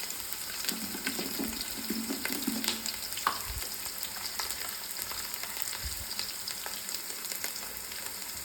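Garlic fries in oil for beef pickle, giving a continuous, fairly soft hiss and sizzle with occasional stirring clinks and light pops.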